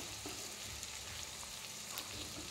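Capsicum fries in a covered pan, giving a soft, steady sizzle heard close and fairly faint, with no voices.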